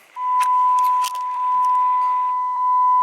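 A steady electronic chime tone rings continuously as the key is turned forward in the ignition of a Cummins-powered truck that won't start, with faint clicks and rustling over it.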